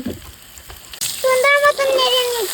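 Turmeric powder and small dried fish dropping into hot frying oil set off a sudden loud sizzle that hisses steadily up close, with a short metallic ring from the pan partway through.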